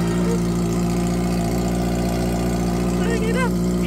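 A Kawasaki ZX-4RR motorcycle engine runs with no exhaust pipe fitted, giving a loud, steady, raw idle-like drone up close, with voices talking over it near the end.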